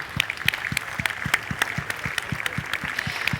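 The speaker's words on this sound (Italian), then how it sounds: "Un grande applauso per Christian De Sica." Applause for Christian De Sica at an awards ceremony, a steady rhythmic clapping at moderate loudness with regular beats, heard alone without talk.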